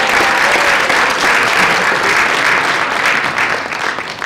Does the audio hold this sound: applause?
yes